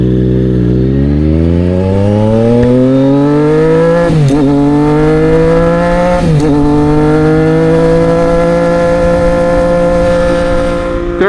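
A Triumph Street Triple 765 RS motorcycle accelerates hard on twisty roads, engine pitch climbing steadily with two brief dips at gear changes, loud and close throughout with no talk.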